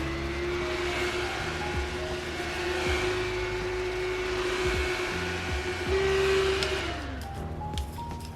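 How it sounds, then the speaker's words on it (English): A small electric fan blows close by to dry setting spray on a face, giving a steady whirring hum with a constant motor tone that shifts pitch briefly near the end. "I always like to take a fan just to dry it down a little bit quicker."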